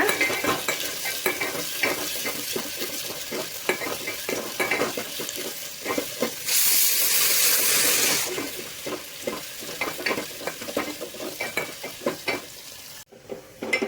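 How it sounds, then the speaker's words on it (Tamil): Small onions sautéing in a pan with curry leaves for sambar, a steady close sizzle broken by frequent scraping stirs of a utensil against the pan, with one brief louder hissing surge midway. "சின்ன வெங்காயம் போட்டுக்கலாம். வெங்காயம் வந்து கொஞ்சம் கலர் மாறுற அளவுக்கு வதக்கிக்கோங்க."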